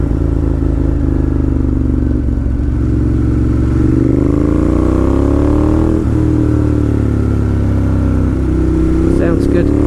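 Motorcycle engine with the baffles removed runs loud and steady throughout, its deep harmonic drone rising and falling in pitch as the rider revs and shifts, close and continuous.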